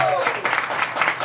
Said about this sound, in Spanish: fuertísimos aplausos para Luciana y para Amara